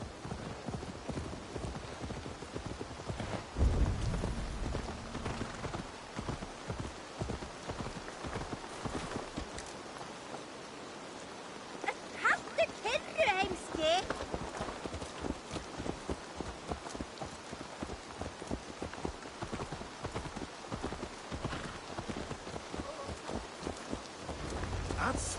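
Horse hooves clip-clopping in Assassin's Creed Valhalla, a steady rhythmic patter of steps close by, mixed with rain-like ambient noise and some game voices and effects partway through.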